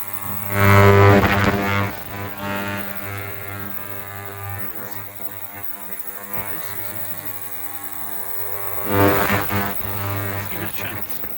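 An ultrasonic cleaner with a transmission part soaking in it emits a steady electrical hum with strong tonal bands, with a louder buzzing surge near the start and another near the end.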